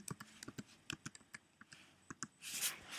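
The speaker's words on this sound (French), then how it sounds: "Et là, je tape" Quick, sharp key taps on a computer keyboard sound up close, about a dozen clicks in an uneven rhythm, ending in a brief rustling swish.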